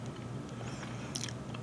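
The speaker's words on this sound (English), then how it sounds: "So I'm just going to taste one." Someone bites into and chews a Chinese tea egg, a hard-boiled egg steeped in seasoning; soft, close mouth and chewing noises with a brief crisper burst near the end, steady background hum beneath.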